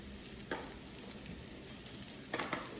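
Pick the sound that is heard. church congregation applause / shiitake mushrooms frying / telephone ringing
shiitake mushrooms frying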